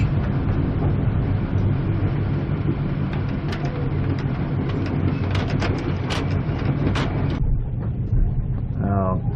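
Inside a passenger train running from Brisbane to Sydney, a steady rumbling roar of wheels and carriage fills the interior, with faint metallic clicks and squeals over the constant low drone.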